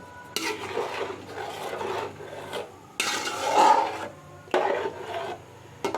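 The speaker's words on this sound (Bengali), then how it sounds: "দিয়ে এই মশলাগুলোকে ভালো করে মিশিয়ে নেব" A utensil stirs and scrapes spices through chicken in a pot for dum biryani, giving rough rasping strokes in several bursts separated by brief pauses, moderately loud and close.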